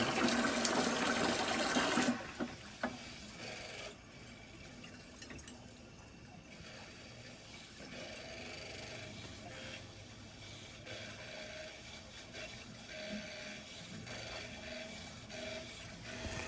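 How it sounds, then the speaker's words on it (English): Water rushes through a boiler circulator pump while the system is flushed: a loud initial gush cuts off abruptly, then a quieter steady flow with faint whirring and intermittent gurgles continues. "the circulator sounds a little bit weird with the water flowing through it"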